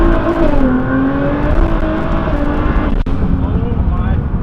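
A 1000 whp Mitsubishi Evo 9 engine roars loud and close, holding a rough, heavy drone that climbs and falls with the throttle over a few seconds.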